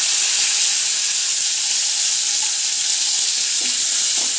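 Curry leaves hit hot oil in a pan, giving a loud, steady sizzle and hiss throughout with a few faint stirring clinks near the end.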